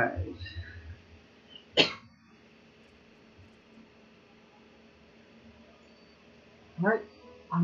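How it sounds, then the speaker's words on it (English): A man coughs a few times in short bursts, with one sharp cough early on and another pair near the end, close to the mic, against quiet background hiss. "Still coughing a little bit."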